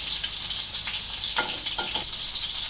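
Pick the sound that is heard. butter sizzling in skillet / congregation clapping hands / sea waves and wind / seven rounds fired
butter sizzling in skillet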